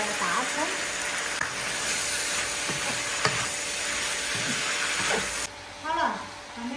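Wood ear mushrooms stir-fried nonstop in a wok hiss with a loud, steady sizzle, punctuated by spatula scrapes, while a voice talks over the cooking.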